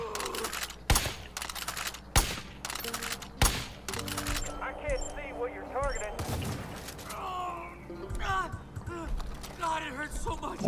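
Video game gunfire in Far Cry 5: repeated loud single shots at irregular intervals, mixed with game effects and someone talking over them.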